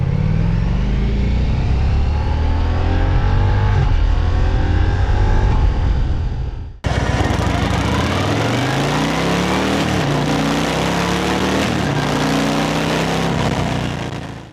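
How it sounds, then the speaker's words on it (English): Harley-Davidson Fat Boy 117 cruiser with its stock exhaust, a loud, close engine rumble running steadily throughout with revving swells, briefly cut off midway before resuming at full volume. "In terms of stock sound, they both sound great, but I think you'll agree the Fat Boy sounds better."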